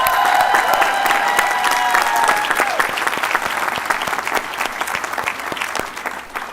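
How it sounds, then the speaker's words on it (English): Commencement audience at a college ceremony breaking into steady, full applause, a dense crowd of clapping that holds strong and then gradually thins toward the end. "please let's give them a round of applause"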